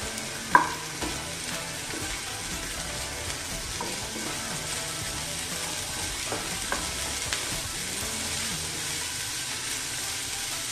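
Onions sizzle and fry in a hot pan for Maharashtrian usal pav, a steady dense crackle with occasional scraping stirs and a light clink near the start.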